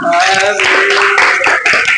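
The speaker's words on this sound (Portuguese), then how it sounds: "Palmas para Elô, gente" An audience claps in applause at a church Bible class, a steady, dense patter of hands with voices and cheering mixed in throughout.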